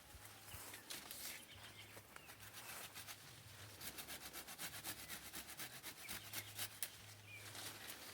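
Handsaw cutting through a fruit tree branch during pruning, giving a steady, moderately loud rasping stroke rhythm close by, with a low hum running underneath.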